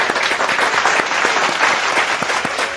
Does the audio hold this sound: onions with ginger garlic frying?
no